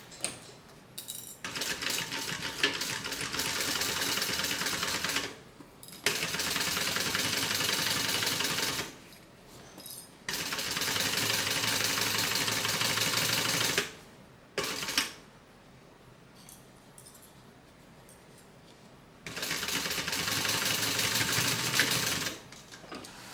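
A sewing machine stitches across a fabric bag in several loud bursts of rapid mechanical clatter, each lasting a few seconds and separated by short pauses.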